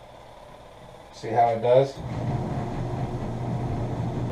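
A Panda portable washing machine starts up after a short spoken remark, settling into a steady low motor hum and churning that carries on quietly to the end.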